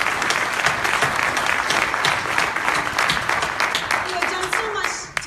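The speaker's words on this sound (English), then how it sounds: "So if I can get a round of applause for all those volunteers out in the crowd" A crowd at a Medicine Hat leadership debate gives loud, sustained applause for the volunteers. The dense clapping and cheering hold steady, then taper off near the end.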